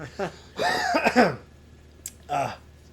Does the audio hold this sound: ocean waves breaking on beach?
no